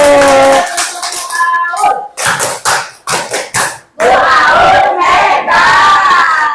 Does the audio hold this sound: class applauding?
yes